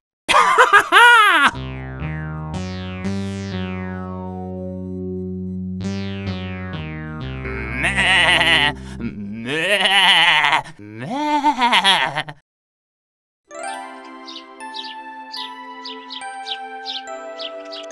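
A cartoon lamb's bleating rings out in a French children's animated tale, several drawn-out wavering cries in a row alongside musical tones, with no talk over them.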